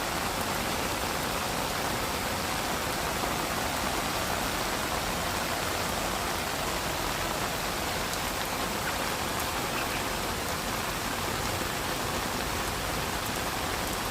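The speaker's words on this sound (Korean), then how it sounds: "비가 많이 오네" Heavy rain pours in a dense, steady hiss that stays even and unbroken throughout, with no voices or other distinct sounds.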